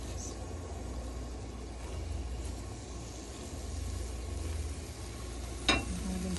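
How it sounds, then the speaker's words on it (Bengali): Onions and liver sizzle in hot oil with cumin seeds during tempering, a soft, steady frying hiss close by, with a brief clink of a utensil near the end. "পেঁয়াজ কুচিরে লাল করে আমি খলিজারে বাগার দিব"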